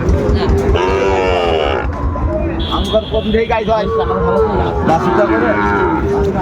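Sahiwal cattle mooing loudly and repeatedly at a crowded livestock market, the drawn-out bellows rising over constant nearby chatter and background buzz.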